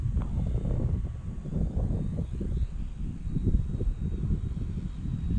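Gusty wind buffets the microphone outdoors as a model trainer airplane is flown, producing rough low rumbling that swells and fades throughout, with a faint engine whine in the background.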